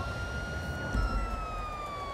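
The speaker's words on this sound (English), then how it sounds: "All right, so we're gonna turn off the sirens." Emergency vehicle siren: one continuous, slowly descending wail with layered harmonics over a dense, rumbling low noise bed, steady and fairly loud.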